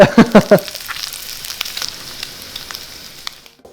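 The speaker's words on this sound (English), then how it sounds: "so my bacon's done. I like mine nice and crispy" Bacon frying crispy in a pan, a steady close crackling sizzle with a few sharp louder clatters at the start, fading out toward the end.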